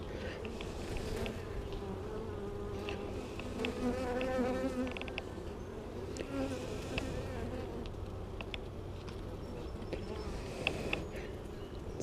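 Honeybees buzz steadily throughout a backyard hive inspection with brood frames open, a dense, close swarm drone that holds at one level, with a few brief louder passes near the end.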